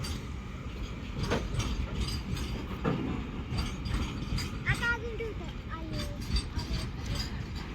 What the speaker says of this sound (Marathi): ट्रेन चालले